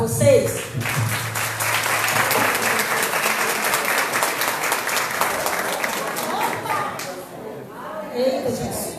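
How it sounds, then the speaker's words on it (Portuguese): A roomful of people at a union meeting breaks into sustained, dense applause lasting several seconds before fading out, with a voice heard briefly at the start and end. "Eu queria pedir uma salva de palmas para vocês."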